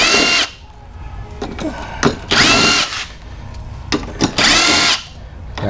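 A power tool whirs in repeated bursts while undoing bolts on the front end of a C4 Corvette under collision repair, three long loud runs with short pauses and small clicks between them, close by.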